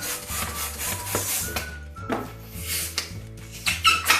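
A white 260 modelling balloon being inflated by a pump after being cut in half, with a continuous rubbery squeaking and rubbing that swells and eases in repeated strokes, close and fairly loud, no voices.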